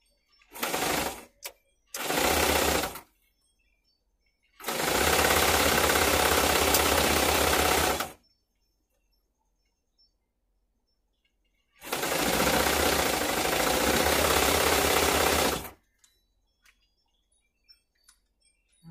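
A sewing machine stitches patchwork seams for an easy patchwork bed runner or throw, in two short bursts and then two long, loud, steady runs with silent pauses between.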